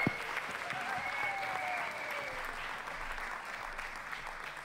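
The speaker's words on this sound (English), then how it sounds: "can we give this fantastic festival a huge applause first?" Audience applause at an Indigenous Liberation Day festival, a steady dense wash of clapping sustained throughout at moderate level with no talk over it.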